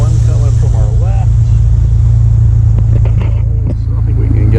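A 1959 Austin Healey 100-6 engine idles steadily at about 1,000 RPM, a loud, even low rumble throughout while someone talks over it and traffic passes nearby.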